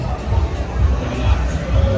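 A busy, bustling crowd outside Lineker's bar in Tenerife, a dense wash of overlapping chatter and voices filling the street at steady loudness.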